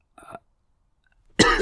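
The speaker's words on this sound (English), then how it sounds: "I knew that cough was coming." A single sharp, close cough bursts out after a brief breathy sound and a pause of silence.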